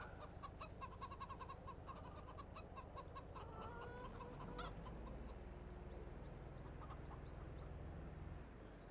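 Chickens clucking on a small farm in Farming Simulator 22 at morning feeding time; a steady, dense chorus of clucks and squawks carries on throughout with no talking.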